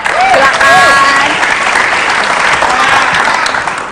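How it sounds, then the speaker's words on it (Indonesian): Studio audience applause on an Indonesian TV talk show, loud and dense from the start and holding steady for four seconds, with a host's brief voice rising over it near the beginning. "Tepuk tangan."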